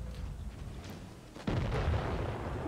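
A single heavy tank cannon shot in World of Tanks Blitz, a sudden loud boom partway through followed by a rumbling decay, with quieter battle ambience before it.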